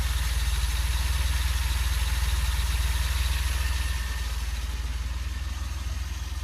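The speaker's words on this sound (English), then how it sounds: "You can kind of hear the engine." A 1981 DeLorean DMC-12 idles nearby, its engine giving a steady low hum with an even mechanical throb that eases slightly toward the end.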